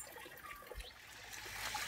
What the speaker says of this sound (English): The water of this fountain comes out in spurts, so watch out or you might get splashed.